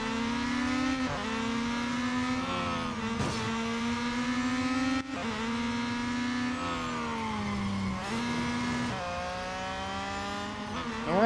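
Racing car engines in the mobile game Real Racing 3 whine steadily and loudly at high revs, the pitch climbing through gears and dropping at several shifts across the stretch, with no voices.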